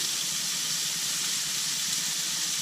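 Homemade bacon sizzles in a pan, a continuous hissing crackle that stays even throughout with no voices over it.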